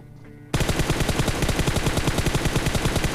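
Rapid automatic gunfire from a PUBG Mobile match bursts in after a quiet half second, a loud, sustained rattle of shots that keeps pulsing steadily to the end.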